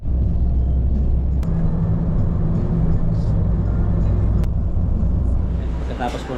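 A car being ridden in, heard from inside: a loud, steady low engine and road rumble throughout, with a couple of sharp clicks and the noise easing slightly near the end.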